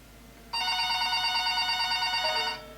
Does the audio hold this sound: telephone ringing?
yes